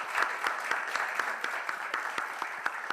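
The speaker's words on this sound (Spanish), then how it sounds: "darle un gran aplauso a Laura," Applause from an audience at a talk on the digital society, given for a speaker named Laura: steady, moderately close clapping with distinct individual claps sustained for about three seconds, no voices.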